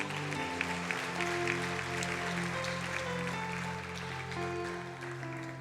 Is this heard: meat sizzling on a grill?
no